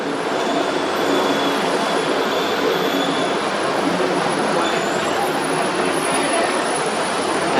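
Train number 279 rumbles past the Asok–Din Daeng railway crossing in Bangkok, a steady loud broadband roar with faint high squeals running through all seven seconds.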